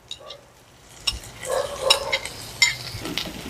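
Minced meat with ginger, garlic and cumin paste cooks in oil in a pan, a quiet sizzle under clinking, scraping stirring strokes that grow busier after a soft start.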